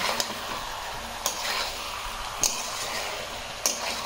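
Meat fries with ground spices in a pan, giving a steady sizzle while a spoon scrapes and clinks against the pan about once a second.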